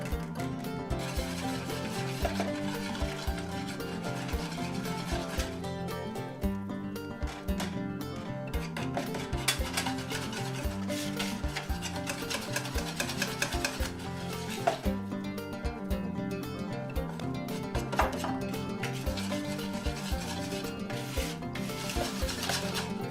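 Flour is being stirred into German pancake batter, making a continuous close scraping and swishing in a bowl with steady rhythmic strokes over more than twenty seconds and no talking.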